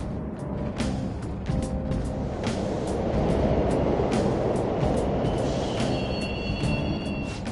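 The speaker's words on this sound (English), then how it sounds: "The trains are totally running!" Subway trains running through a station in Persona 5 Royal, a steady loud rumble of rolling wagons with rhythmic rail clacks and a faint high squeal near the end, no voices.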